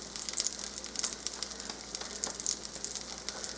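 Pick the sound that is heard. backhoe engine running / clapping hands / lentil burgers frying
lentil burgers frying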